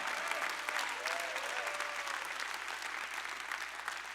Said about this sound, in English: You better clap your hands and shout